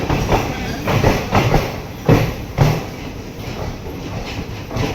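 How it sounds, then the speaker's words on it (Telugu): Simhadri Express passenger train running on Indian Railways, a steady rumbling roll with recurring clickety-clack wheel thumps over rail joints, heard close from on board and moderately loud. "మనం ట్రావెల్ చేస్తున్న ట్రైన్ సింహాద్రి ఎక్స్ప్రెస్"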